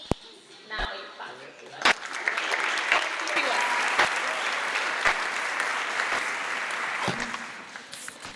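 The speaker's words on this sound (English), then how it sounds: "Now you clap." Middle school graduation audience applauding a class speaker, the clapping swelling from scattered claps into a sustained crowd round, with a few loud close knocks and some voices mixed in.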